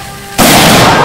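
A small 500 ml water bottle rocket launches with a sudden loud bang at a lecture demonstration, followed by a broad, sustained whooshing burst.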